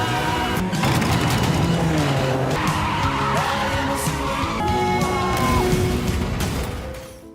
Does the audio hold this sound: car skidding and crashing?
yes